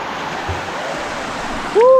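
River water flows across stones as someone wades through, a steady broadband rush close by, then a sudden louder splash or surge at the very end.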